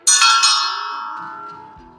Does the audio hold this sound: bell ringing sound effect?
yes